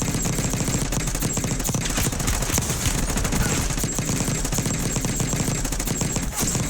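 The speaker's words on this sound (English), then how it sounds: "I'm going to bait him by shooting, and he's going to turn around and get out." Gunfire in the Warzone Black Ops 6 video game: rapid automatic bursts rattle continuously and loudly throughout, close and dense, with no talking.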